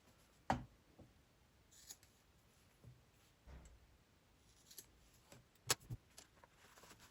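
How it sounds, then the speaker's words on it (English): Scissors snip threads and corners on a clear vinyl tote, making a few sharp, isolated cuts close by in a quiet room with faint handling rustle between them. "trimming the threads and trimming the corners prior to turning"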